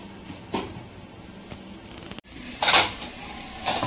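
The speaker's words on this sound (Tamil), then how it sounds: "இப்போ வந்து நம்ம ஒரு மூடி போட்டு மூடி வச்சுடுவோம்" A metal lid clatters onto a cooking pan of soya keema with a couple of sharp clinks and a brief scrape, close by against a quiet kitchen background.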